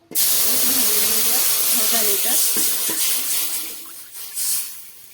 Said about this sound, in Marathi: आता दूध छानपैकी उकळून घ्यायचं आहे